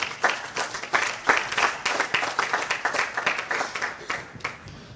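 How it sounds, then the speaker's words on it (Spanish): A church congregation bursts into applause during a Bible class, many hands clapping in a dense, lively burst that holds steady for several seconds, then slowly eases off. "Den un aplauso al Señor."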